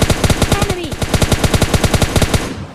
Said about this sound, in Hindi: मैं यहाँ से एक को फायर देने का ट्राई करता हूँ